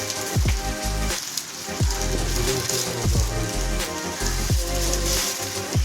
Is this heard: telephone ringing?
no